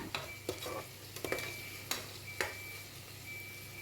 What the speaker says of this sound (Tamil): பொடியாக நறுக்கின பெரிய வெங்காயம் 1, இதெல்லாமே சேர்த்து நல்லா வதக்கிக்கலாம்